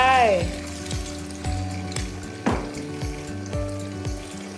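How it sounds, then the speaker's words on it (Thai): Egg frying in a pan with winged beans and garlic, a steady sizzle under repeated metallic clinks of a spatula knocking against the pan, close and fairly loud. "ใส่ไข่ลงไป"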